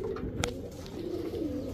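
Low, soft pigeon cooing at a pigeon seller's market, a continuous rumbling coo with a brief higher chirp partway through, close and steady over faint background noise.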